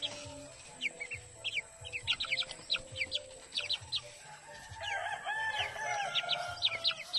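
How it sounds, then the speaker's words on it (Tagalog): Chickens at a rural vegetable plot cluck and chirp in quick repeated bursts, close and fairly clear, with a low crowing-like call and layered bird calls continuing throughout. "This is my chicken."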